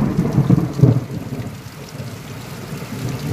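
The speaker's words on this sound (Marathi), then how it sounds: "विजांचा कडकडाट आणि मुसळधार पाऊस" Heavy monsoon rain pours steadily in Chandwad while deep rolling thunder rumbles loudly in the first second, then fades into the continuous downpour.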